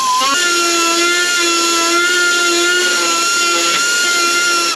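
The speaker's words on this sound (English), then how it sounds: "What I've got here is 1/4 inch tapered little carbide burr. These are great for sheet metal work and removal." A rotary tool fitted with a 1/4-inch tapered carbide burr whines at a loud, steady high pitch as it grinds sheet metal on a car body, holding the tone without pause from start to finish.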